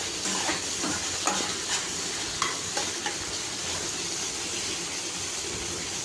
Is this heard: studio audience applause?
no